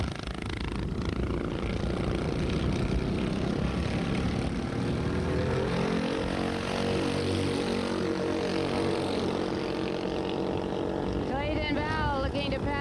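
Go-kart engines in a Maui kart race hold a loud, steady buzzing drone throughout, with rising and falling whines as karts pass nearby.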